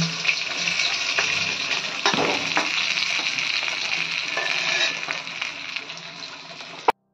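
A Katla fish head fries in hot oil in a kadai, giving a continuous loud sizzle with occasional stirring clatter, then a sudden cut to silence.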